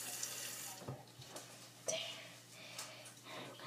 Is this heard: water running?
yes